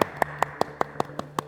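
A single person claps eight times at an even, quick pace, each clap crisp and close against a faint steady hum, with no cheering or voices.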